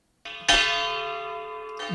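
Bell tones made on a Steinberg Backbone drum re-synthesizer: a soft struck onset followed by a louder metallic strike that rings and slowly decays, then another short hit near the end.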